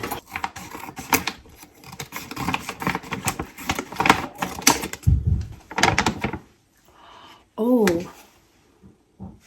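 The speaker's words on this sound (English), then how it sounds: "I'm going to cut it with scissors" Scissors snip and crinkle through plastic packaging in a run of sharp clicks and rustles, with a person talking throughout.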